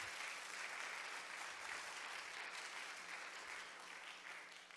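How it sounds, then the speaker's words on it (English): Audience applause for a speaker at an evening symposium session, a continuous, even patter of many hands clapping that holds steady and tapers slightly at the end, heard from some distance in a large room. "So why don't you give big applause to him?"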